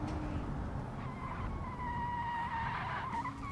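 Car tires squealing in the Automation racing game, a sustained high skidding whine over steady engine drone throughout, loud and continuous with no talking.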